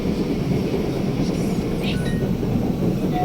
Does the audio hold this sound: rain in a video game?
no